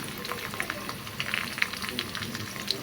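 Ground cumin paste and ginger paste hitting hot oil with already-fried onions for a beef and potato curry: a close, steady crackling sizzle with scattered sharp pops throughout, no talking.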